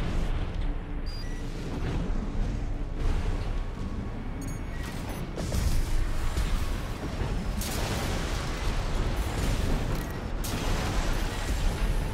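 Dense, continuous combat noise from the mech action game Armored Core VI, with gunfire and booming explosions layered over one another, loud and sustained throughout with heavier bursts partway through.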